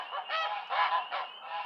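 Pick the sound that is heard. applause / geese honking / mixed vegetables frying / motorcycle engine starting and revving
geese honking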